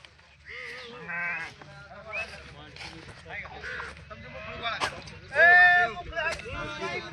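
Sheep and goats bleat repeatedly in a flock, with several overlapping calls of varied pitch, one loud near bleat standing out, mixed with people talking nearby.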